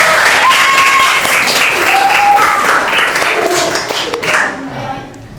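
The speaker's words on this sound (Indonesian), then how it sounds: "Silakan tepuk tangan buat semuanya." A group claps for student discussion groups after their presentations at an Indonesian school session, loud, dense applause that runs steadily and then tapers off toward the end, with a few voices audible over the claps.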